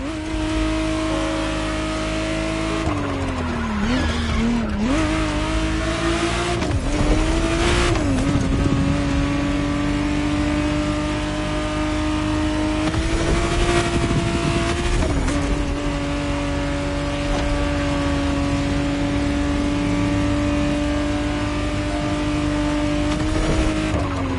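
A 1991 Ferrari Testarossa 512 TR in the racing game The Crew Motorfest drives with a loud, steady engine drone that rises and dips with throttle changes, with a few tire-squeal moments and no talk.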